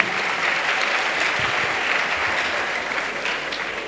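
A church congregation at a salvation and healing crusade in Douala applauds, a dense, steady wash of many clapping hands that stays loud and even throughout, with no individual voices standing out.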